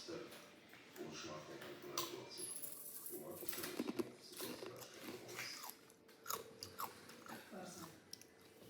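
Takis rolled tortilla chips crunched and chewed close to the mic during a mukbang, with repeated sharp bites and steady munching throughout, under some background talk.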